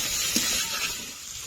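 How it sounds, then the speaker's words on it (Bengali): Spices with salt and turmeric fry in a pan for a Bengali meal, giving a close, steady hiss of sizzling throughout the short moment, with a soft stir or clink early on. "ভালো করে কষে নেব।"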